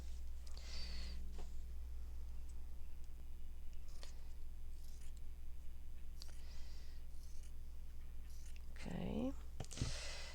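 Scissors snip through shirt fabric while making junk-journal pockets, a few soft cuts and rustles over a steady low hum, with a louder flurry of cutting near the end.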